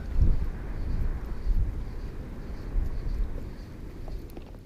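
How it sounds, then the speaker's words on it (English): Wind gusting steadily across an open lakeshore during cold-weather fishing, a loud low rumble buffeting the microphone in uneven surges for the whole stretch. "the wind's blowing down on top of me"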